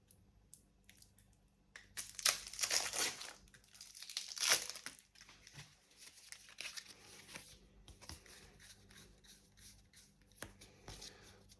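Skull Tales game cards handled at close range during an unboxing, with crisp bursts of shuffling and crinkling between quieter pauses, and several sharper flicks and rustles scattered through.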